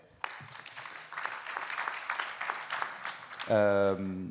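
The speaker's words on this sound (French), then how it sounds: "On peut l'applaudir, s'il vous plaît." An audience claps in steady, dense applause for a few seconds before a loud musical tone abruptly cuts in near the end.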